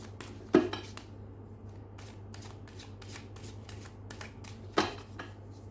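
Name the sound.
cards being shuffled before drawing a card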